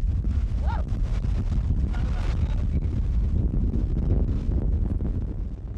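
Strong wind of a severe desert sandstorm roars steadily against the microphone, a dense low rumble with gusty buffeting throughout and no clear voices.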